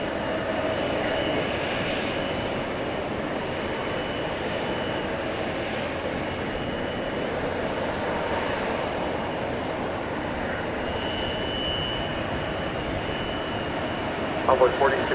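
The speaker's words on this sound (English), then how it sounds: "This one headed to Wichita Falls, Texas on an Embraer 175" An Embraer 175 LR regional jet of American Eagle turns its engines over at DFW Airport at night, a steady broad roar with a faint high whine throughout, fairly distant and even.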